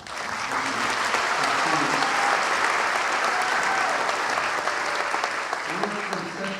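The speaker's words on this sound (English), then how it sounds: "You may applaud." A large commencement audience applauds steadily, a broad, sustained roar of many hands clapping at even volume, with a few faint voices mixed in near the end.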